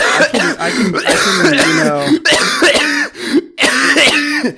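Harsh, repeated coughing and throat clearing in a close, loud fit, with strained vocal sounds running between the bursts.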